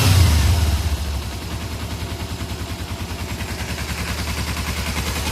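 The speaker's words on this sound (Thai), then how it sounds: "ได้ยินเสียงไหมครับ เครื่องยนต์เดินไม่ครบสูบ" A Z300 two-cylinder motorcycle engine not firing on all cylinders is revved, then settles into a rough, uneven pulsing idle, its steady chugging beat stumbling like a misfire, close and loud.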